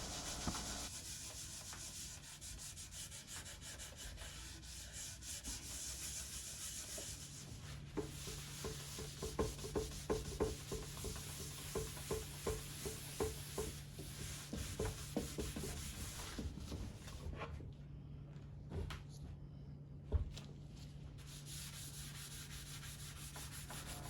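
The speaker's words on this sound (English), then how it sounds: "I had to keep buffing until I removed all of that excess product" A wooden stool is buffed by hand to remove excess oil finish, soft rhythmic rubbing strokes close and quiet, repeating in bursts with no talk.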